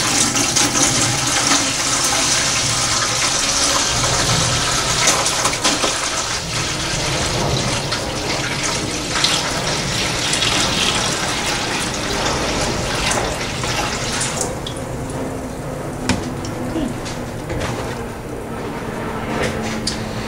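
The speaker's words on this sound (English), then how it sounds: "My water, I'm going to add a gallon of water." A gallon of water gushes and splashes into a pot on a stove, a loud steady pour that continues throughout, ending with a few lighter drips and clinks.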